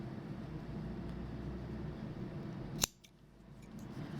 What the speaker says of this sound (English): And then just trim down the excess.